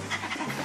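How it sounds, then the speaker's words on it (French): A dog pants rapidly and steadily at close range, a short run of quick breathy huffs with no talking over it. "Ouais, beau chien, veux-tu un biscuit, le beau chien?"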